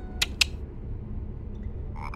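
A chocolate frog in a Harry Potter video game gives two quick, sharp croaks in close succession, followed by a quiet hum and faint game effects.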